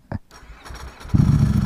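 A Ducati Streetfighter V4 SP fires up nearby: a short click and whir of the starter, then the engine catches into a loud, throbbing idle.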